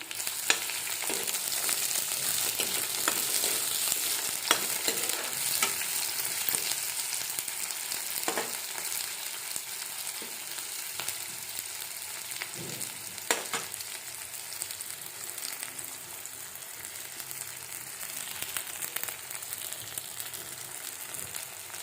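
Chopped onions with green chillies fry in a pan for a meat curry, producing a continuous close sizzle with scattered pops and occasional stirring scrapes throughout.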